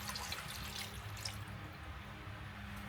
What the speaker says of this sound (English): Then, I'll add about a cup of vinegar, followed by a cup of water.